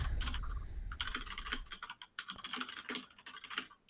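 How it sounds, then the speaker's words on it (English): Loud computer keyboard typing, up close: a rapid, uneven patter of crisp key clicks in bursts with brief pauses and no talking over it. "Sorry, my keyboard is so loud."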